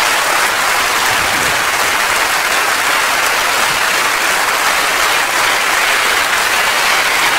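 Audience at a live French comedy stage show applauds the stage crew, a dense, steady wash of clapping filling the hall loudly and evenly throughout, with no voices rising above it.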